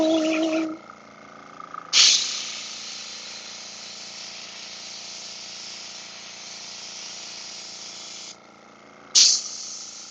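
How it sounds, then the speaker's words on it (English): Paint hisses steadily from an airbrush in a continuous close spray lasting most of the stretch, with short louder bursts at the start of each spray and again near the end. "We'll see how it sprays out."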